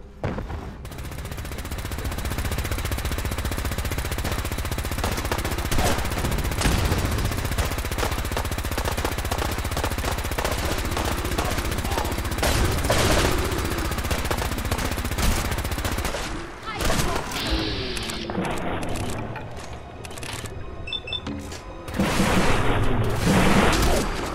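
Soldiers firing at will make a dense, loud barrage of overlapping gunshots and booming blasts that runs almost continuously, with shouting voices mixed in and a brief lull before it swells again.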